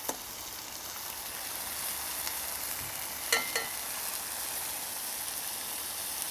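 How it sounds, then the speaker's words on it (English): A restaurant-style Madras curry cooks down in plenty of oil, giving a steady close hissing sizzle throughout, with a couple of brief clinks partway through. "Just let that cook down, do its thing. Don't worry, it won't burn. There's enough oil in there"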